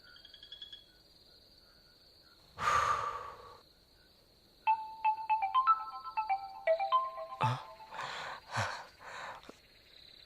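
A repeating electronic ringtone melody plays in bursts after a sharp noise, with soft high chirping tones and breathy sounds around it.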